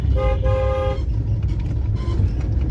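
A bus or car horn blares once for about a second at close range on a road, followed by the low rumble of passing traffic and faint further honks.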